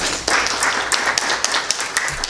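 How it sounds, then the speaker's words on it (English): Audience applause at an art guild talk, a dense wash of many hands clapping steadily, fairly loud and close, with a few sharper individual claps standing out. "Who's clapped for me?"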